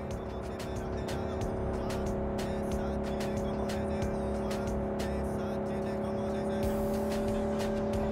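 A car pulls away in the Cyberpunk 2077 video game, with a steady engine hum held under a bed of game music, sharp clicks and a brief tire noise, and no clear speech.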